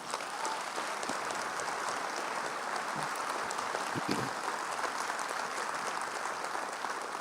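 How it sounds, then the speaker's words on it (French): An audience at a New Year's address applauds the firefighters, dense, sustained clapping that fills the hall evenly from start to finish. "on les applaudit."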